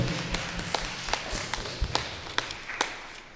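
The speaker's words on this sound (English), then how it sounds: "A big round of applause for him." Scattered claps ring out at a St. Jude feast-day church celebration, a sparse, uneven handful of sharp individual hand claps rather than a full ovation, fairly close and with no talking.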